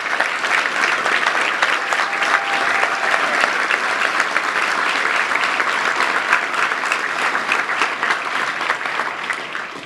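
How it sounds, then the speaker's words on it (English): Sustained applause from a seated luncheon audience at a touchdown club meeting, honoring high school coaches and students, a dense steady wash of clapping that holds loud for about ten seconds and tapers slightly at the end. "please stand and let's give you a round of applause"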